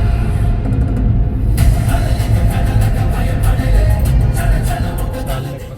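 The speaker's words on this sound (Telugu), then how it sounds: "ట్రాఫిక్ కూడా ఉంది బాగానే రోడ్ పైన" Road traffic heard from inside a moving car at dusk: a loud, continuous low rumble of engine and tyres, with passing vehicles swelling and fading.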